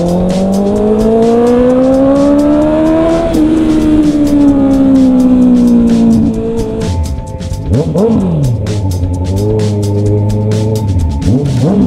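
A Honda CB650R motorcycle revs hard and loudly nearby, its engine note climbing through several rising sweeps, dropping between shifts, then surging up and down again.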